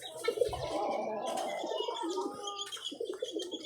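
Pigeons coo steadily at close range in a loft-like setting, with soft overlapping calls and a few chirps running throughout, and no speech.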